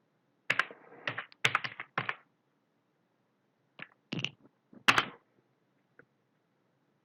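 Keys clatter on a computer keyboard as a C program is entered, with quick bursts of close, crisp keystrokes, then pauses and a few scattered taps before falling quiet.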